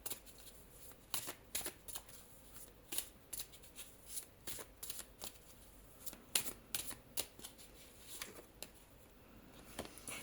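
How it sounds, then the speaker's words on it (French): Oracle cards, a deck called the Oracle of Mirrors, being shuffled by hand: quick, quiet riffling bursts that repeat in an irregular rhythm, close up and soft, with no talk. "Je vais tirer 3 cartes en le mélangeant à chaque fois de l'oracle des miroirs pour vérifier."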